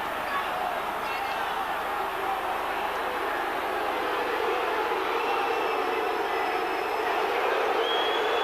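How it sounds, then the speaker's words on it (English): Rugby league crowd at a Bradford versus Castleford Regal Trophy semi-final, a sustained loud roar of booing from a large stadium audience, continuous throughout with commentary voices over it. "The crowd's boos signify the reaction here to Crooks staying on the pitch."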